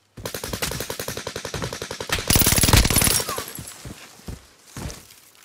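Automatic gunfire in Call of Duty: Modern Warfare, a fast steady rattle of close, loud shots that grows heavier midway and then breaks into a few scattered rounds before fading.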